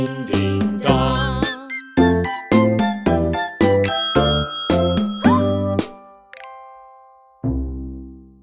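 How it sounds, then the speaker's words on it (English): A sequence of sharp, ringing bell-like chime strikes in a ding-dong pattern from a children's nursery rhyme, struck in rhythmic groups with decaying tones and a final low ring. "Brother John, morning bells are ringing, morning bells are ringing, ding ding dong, ding ding dong."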